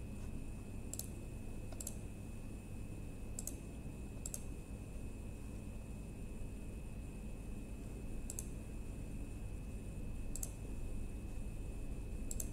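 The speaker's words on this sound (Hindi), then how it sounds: "आप मॉडिफाई बटन पर क्लिक कीजिएगा" Sparse, sharp mouse clicks, about seven spread unevenly, on a computer while working in the IFMS 3.0 finance software, set against a steady electrical hum and a faint high tone.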